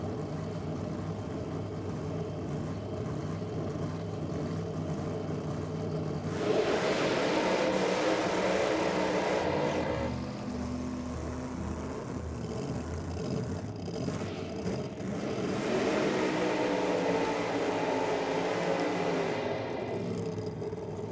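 Alcohol-fuelled big-block Chevrolet drag racing engine in a Pontiac Firebird at a drag racing meet, its roar swelling in two strong revving bursts over a steady background rumble.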